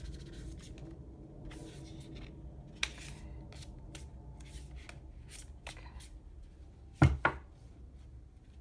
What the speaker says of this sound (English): So let's give this one last